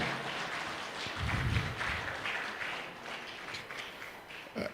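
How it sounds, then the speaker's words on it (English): An audience at a business summit applauds the panelists with a steady wash of many hands clapping, moderately distant, fading slightly toward the end. "Keep clapping."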